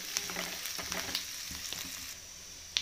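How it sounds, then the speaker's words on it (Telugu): Onions and curry leaves fry in hot oil for paneer 65, making a steady soft sizzle with occasional crackles and a few light stirring scrapes, close and fairly quiet. "రబ్బల కరివేపాకు వేసి వీటిని కూడా బాగా వేయించుకోవాలి"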